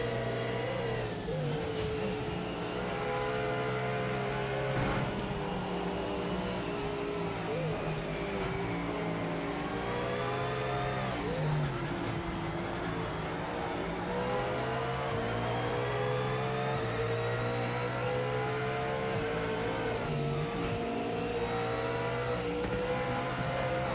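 Ford Mustang GT3 race car engine in the racing game Project Motor Racing, a steady loud drone with gear-shift dips and rising revs, continuous for the whole stretch with faint talk underneath.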